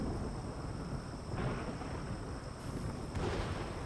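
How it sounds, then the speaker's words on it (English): Thunderstorm in the video game RimWorld: low rolling thunder and rain-like hiss swell and fade in broad waves, with a steady high ambient hum running through. "The old thunderstorm's not great."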